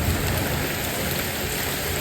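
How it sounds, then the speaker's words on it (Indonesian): Steady, heavy rain falls in a forest as a dense, constant hiss with no pauses and no voices. "Hujan terus ya. Hujan terus bang."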